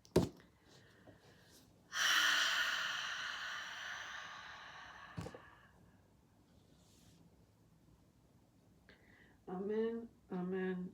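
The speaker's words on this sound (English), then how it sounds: "Big exhale, everyone." A group of people lets out one long, breathy exhale together, fading gradually. A single sharp click comes after it, and brief voices follow near the end.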